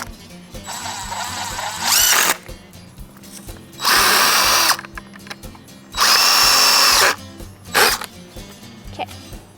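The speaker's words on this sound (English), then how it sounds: "So after you've drilled the first 3-foot board in" A power drill driving screws to fix a trellis onto a wooden board, with three loud whirring bursts of about a second each, separated by quieter handling noise at close range.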